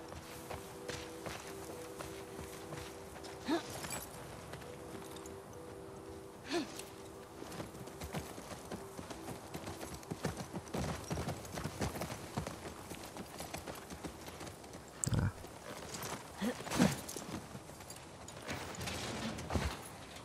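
Horse hooves clip-clopping at a walking pace in The Last of Us Part II, a steady run of soft hoof strikes with a few sharper knocks over low ambient game sound and no talk.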